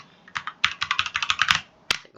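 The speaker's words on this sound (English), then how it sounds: "Let's type globalization technology" Rapid, close keystrokes on a computer keyboard, about a dozen clicks in a quick burst followed by a pause and one final firmer tap, like a search term being entered.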